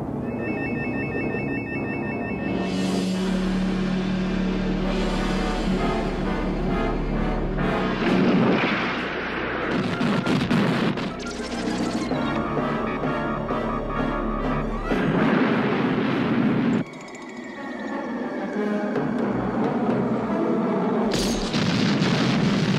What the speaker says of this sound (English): Bubba, keep firing. Keep him occupied while I get the MX ready